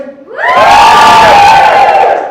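A Dallas comedy club audience on a Saturday night bursts into loud cheering and whooping, rising sharply after a brief lead-in and holding a full, roaring crowd shout to the end.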